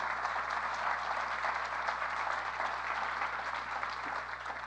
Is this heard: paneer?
no